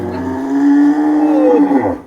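A muscular Madura sacrificial cow lows loudly and close, one long, steady moo over about two seconds with a falling tail at the end, no talk over it.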